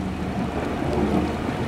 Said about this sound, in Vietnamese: hiện tại trời cũng đang mưa khá là to này các bạn